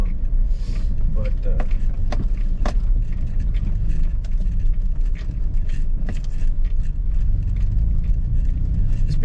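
A vehicle rumbles and jolts along a rough, washboard dirt road up a mountain, with a steady low drone, scattered knocks and rattles from the bumps, and brief talk over it.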